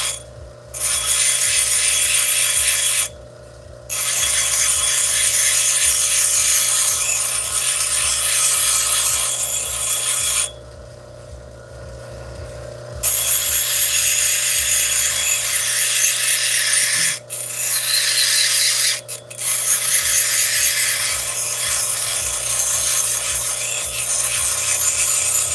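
An 80-grit abrasive wheel grinding tiger's eye stone, a loud, continuous rasping scrape over a motor hum, with several brief pauses when the stone is lifted from the wheel.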